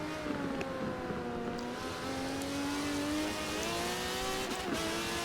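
A race car at the Brands Hatch circuit, heard from a distance, holds a continuous engine drone whose pitch climbs and drops through gear shifts, with a steady wash of track noise.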